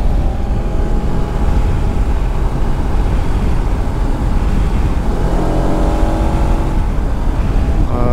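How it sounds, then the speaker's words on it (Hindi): A Bajaj Pulsar RS200 motorcycle engine drones steadily in sixth gear at around 70 km/h, loud and close with wind rush, with a slight wobbling quality to the note. "6th गियर में आने के बाद जब स्पीड हमारी आ जाती है 70, तो इंजन ऐसा लगता है जैसे वॉबल कर रहा है।"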